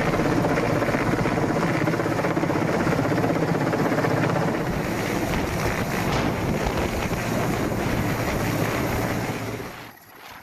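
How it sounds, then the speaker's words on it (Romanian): A helicopter lifting heavy materials up to a mountaintop fortress in Romania gives a loud, continuous rotor roar mixed with gusty wind buffeting, staying steady for about ten seconds before dropping off sharply at the end. "salvamontiști să apeleze la ajutorul unui elicopter care a ridicat tot ce era necesar"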